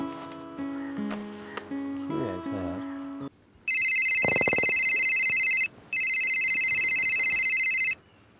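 A telephone rings in a Haryanvi comedy drama, giving two loud, steady electronic ring bursts after a short passage of background music.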